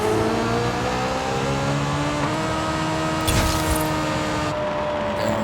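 A Honda S2000 AP1 engine in Forza Horizon 5 drag racing, loud and sustained, revving high with rising pitch, then a quick gear-change burst mid-run before the drone carries on, with no voices.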